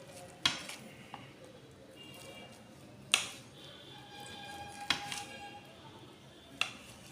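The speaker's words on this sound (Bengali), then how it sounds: "আমি এরপর ডিমটা মধ্যে বরাবর কেটে নেব।" An egg omelet on a plate is cut through, with a few sharp, separate clinks of utensil against the plate spaced a second or two apart over quiet background.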